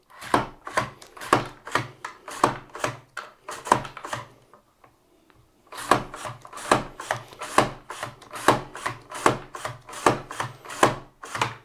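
A large carrot pushed repeatedly across the vertical blades of a mandoline slicer, giving rapid rhythmic rasping strokes close up, a short pause midway, then the quick slicing resumes.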